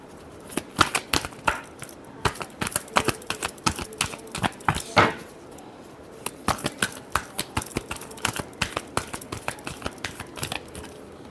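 Tarot cards being shuffled by hand up close, a fast run of crisp flicking clicks in uneven bursts with brief pauses between them, with no voices.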